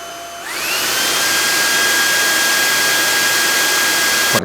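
A loud Dreame R20 cordless vacuum cleaner whirs up to full power within the first half second, then runs steadily with a high-pitched motor whine and broadband rushing air.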